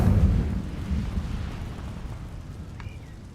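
The Incendio fire spell is cast in Hogwarts Legacy, giving a deep whooshing burst of flame that starts loud and rumbling, then fades into a low roar, with a faint bright chime near the end.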